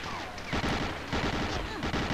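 Rapid gunfire from the World War II shooter Medal of Honor: Allied Assault while driving a vehicle, loud bursts of shots repeating in quick clusters over a dense rumbling game backdrop.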